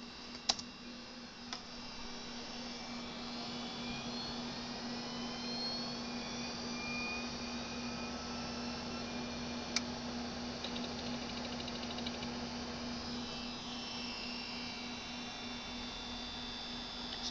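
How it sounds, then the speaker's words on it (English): Two hard disks in an old SPARCserver spinning up at boot, without a proper enclosure: a steady hum with a rising whine holds for the whole stretch, alone and fairly quiet, with a few faint ticks. "you can hear you'll hear the disk spin up"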